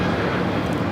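A Volaris Airbus A321neo taking off from Los Angeles airport, a loud, broad, steady jet engine roar heard close throughout.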